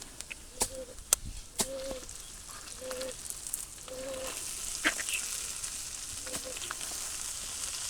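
Jute leaves fry with onion, garlic and chilli at an outdoor village cooking spot, making a soft sizzle that grows stronger toward the end while birds chirp nearby in short, repeated calls.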